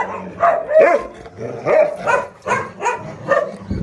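A Gultair dog barks repeatedly up close, a string of about eight loud, rhythmic barks and yelps in quick succession with short gaps between them.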